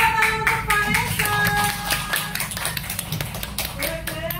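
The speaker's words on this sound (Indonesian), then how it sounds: "beri tepuk tangan untuk Vanessa." People clap for Vanessa in a small group, producing a close, uneven patter of individual hand claps mixed with tapping, while voices and other sounds continue underneath.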